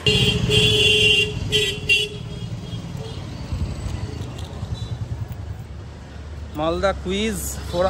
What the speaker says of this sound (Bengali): লোকজন প্রচুর পরিমাণে হর্ন দিচ্ছে, তেড়ে হর্ন দিচ্ছে